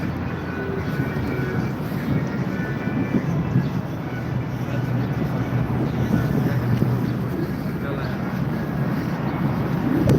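Strong wind buffets the microphone at Niagara Falls, a steady loud roar with low rumble lasting throughout and no voices.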